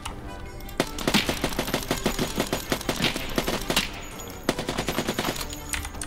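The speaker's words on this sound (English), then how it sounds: "What were you shooting me with? SKS?" Rapid bursts of SKS rifle fire in the shooter game Escape from Tarkov, loud, close and sharp, with dense volleys broken by a short pause near the four-second mark.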